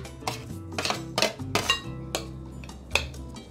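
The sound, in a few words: cooled potatoes being added to a bowl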